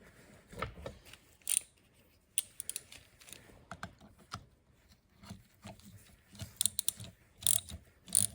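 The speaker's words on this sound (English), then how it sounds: "We just need to push in the pin on the clamp, and that's what's gonna give us our inward double flare." A flaring tool's clamp pin is pushed in to form an inward double flare during work on a Dodge Colt, giving quiet, scattered metallic clicks and ratcheting taps spread across the stretch, with no talking.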